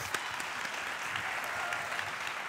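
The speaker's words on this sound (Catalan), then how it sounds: "Aplaudiment per ell, si us plau." Applause from a theatre audience fills the stretch, a steady dense patter of many hands at moderate volume with no talk over it.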